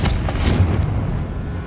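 A Confringo fire spell blasts in Hogwarts Legacy, a deep booming burst with low rumble that rolls on for nearly two seconds, loud and close with no talk over it.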